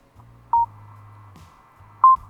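Two short beep prompts, about one and a half seconds apart, from a Schuberth SC EDGE motorcycle helmet headset entering Bluetooth pairing mode, clear and close over a faint low hum.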